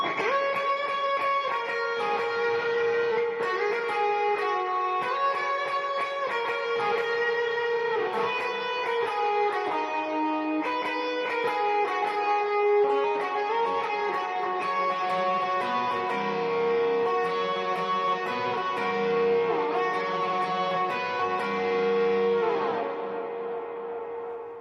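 Electric guitar lead line for a worship song played through effects pedals, sustained melodic notes with echo-like trails over steady chords, continuous and fairly even in level, with no talking.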